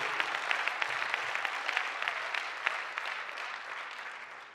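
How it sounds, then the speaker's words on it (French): A church congregation claps and cheers loudly in praise of God, a dense continuous wash of applause with sharp individual claps, gradually easing toward the end. "J'aimerais qu'une personne acclame très très fort pour donner gloire à notre Dieu"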